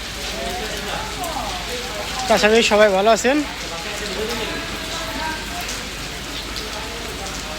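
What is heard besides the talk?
rain falling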